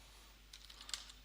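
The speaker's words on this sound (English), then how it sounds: "So for starters, we go into our web browser and we type in" Quick, faint typing on a computer keyboard into a web browser, a short run of soft, close key clicks over a quiet background, no talking.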